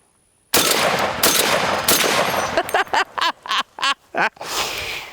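A .50 caliber rifle fired from the hip outdoors: a powerful blast is followed by several more loud, sharp reports, then a quick string of separate bangs, each ringing out briefly before the next, close and dominant with no talk.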